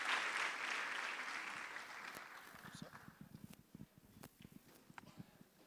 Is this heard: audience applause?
yes